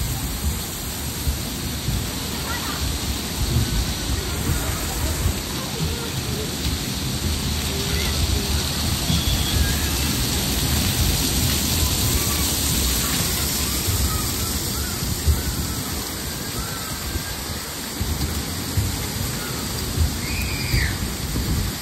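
Water rushes loudly and continuously on a water park ride in Kuwait, a dense, steady roar that fills the whole scene with no break.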